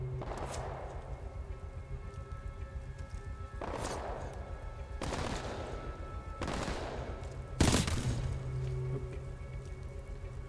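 Gunfire and grenade blasts in the shooter game Titanfall 2: several separate bursts of shots spaced a second or two apart over a steady humming backdrop, with one heavier explosive crack near the end.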